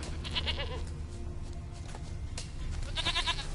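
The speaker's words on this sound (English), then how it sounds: "Here, goat." A goat in The Witcher 3 bleats in wavering, nasal calls, one early and another near the end, over a low ambient game backdrop, with no talking.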